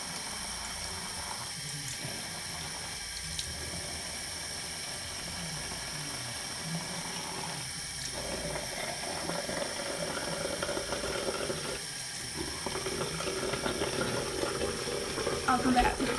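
A bathroom tap runs steadily while someone washes their face, a constant low hiss of flowing water with brief lulls and small clinks, heard close and fairly quiet throughout.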